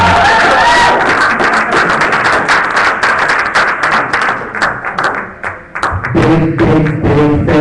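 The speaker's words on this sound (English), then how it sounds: "So again, another big round of applause for this year's team." Close, loud applause with some individual claps and cheers for a poetry slam team at an event in a small room, thinning out toward the end as a speaker's voice comes in.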